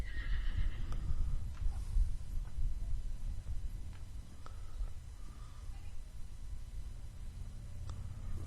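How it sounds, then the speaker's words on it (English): A horse whinnies near the start at a horse show, followed by hoof clops and arena ambience under a soft low rumble, with faint voices in the background. "It's a very pretty horse."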